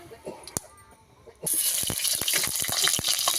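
Oil poured into a hot pan for chicken curry in a village kitchen sets off a sudden loud sizzle that keeps crackling steadily after a few quiet clicks and taps.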